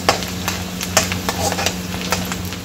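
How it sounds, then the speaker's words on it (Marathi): Onion and peanuts sautéing in a pan, a close, steady sizzle with repeated sharp scrapes and clinks of a spatula stirring against the pan, evenly spaced over a low hum. "यामध्ये आपण शेंगदाणे टाकायचे आहे। इथे थोडेसे शेंगदाणे टाकले आहे। परतून घ्यायचं 2 मिनिटं।"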